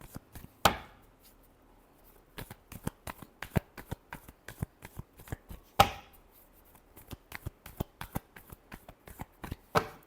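Tarot cards being shuffled by hand, with two loud riffle bursts and many quick, crisp card taps and slaps in an irregular rhythm, close and alone without talk.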